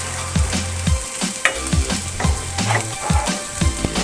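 Onions fry in a pan for Tamil egg curry, a steady close sizzle broken by rhythmic scraping thumps of a spoon stirring roughly every half second, with no voices.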